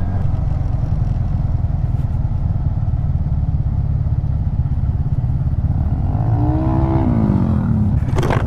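A hotrod's engine roars loudly and continuously while driving on a public road, with a steady rumbling drone and a brief rising whine near the end.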